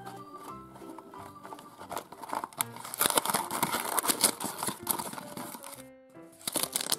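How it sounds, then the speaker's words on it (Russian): Crinkling and rustling of a cardboard toy box and packaging being handled and torn open up close, with irregular scraping and crackling bursts and no talking. "А теперь давайте откроем интересную коробочку."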